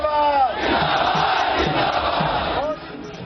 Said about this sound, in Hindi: बीजेपी के दफ्तर के सामने काउंटिंग शुरू होने के कुछ घंटे बाद ही बीजेपी समर्थकों की भीड़